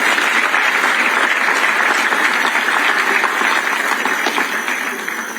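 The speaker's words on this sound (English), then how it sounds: "Can we clap for him?" Applause from a large crowd at a public address event, dense steady clapping with some cheering that stays loud throughout and eases slightly near the end.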